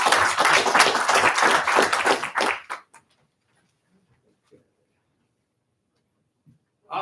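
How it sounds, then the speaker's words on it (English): Applause from attendees at a water district board meeting, a short burst of clapping lasting about two and a half seconds before stopping abruptly, followed by near silence with a few faint taps. "give him a round of applause"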